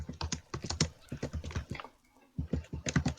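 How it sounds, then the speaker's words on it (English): Rapid typing on a computer keyboard during a Minecraft session, a dense run of close, crisp key clicks that pauses briefly near the middle and then resumes just as fast. "Typing furiously."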